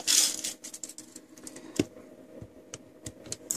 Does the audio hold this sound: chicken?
no